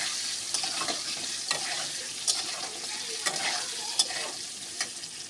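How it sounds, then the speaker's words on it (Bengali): Potatoes with a little salt frying in a pan, a continuous quiet sizzle with regular light scrapes and taps of stirring, heard close and without speech. "দিয়ে আলুটাকে লাল লাল করে ভেজে নেব"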